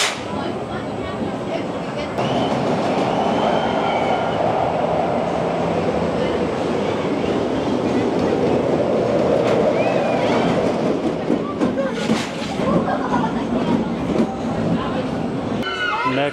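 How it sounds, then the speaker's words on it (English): A Tivoli family roller coaster runs at an amusement park, giving a steady rumbling, rattling roar of train wheels on track that holds loud and continuous throughout, with crowd and ride noise around it. "Rattlesnake, which is a Tivoli family coaster."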